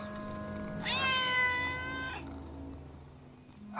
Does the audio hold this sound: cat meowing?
yes